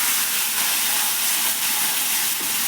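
Ground tomato paste poured into hot oil for pizza dosa, giving a loud, steady steam-like hiss and sizzle that holds evenly throughout with no talking.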